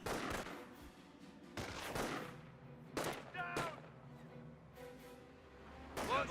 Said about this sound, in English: Our squad getting some fire on that Volksgrenadiers